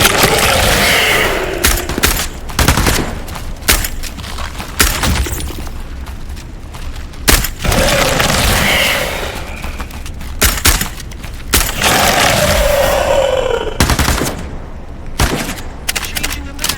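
Bursts of gunfire from a shooter video game crack and rattle in clustered volleys, loud and close, with explosive impacts and brief gaps between bursts.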